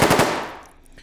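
A quick burst of F2000 rifle fire in the H3VR virtual reality shooter, several sharp rapid shots up front that trail off into a fading echo, no voices.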